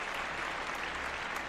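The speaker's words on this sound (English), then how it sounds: "a big round of applause for Nicole" A short, steady burst of applause from a group, many hands clapping evenly at moderate volume with no voices over it.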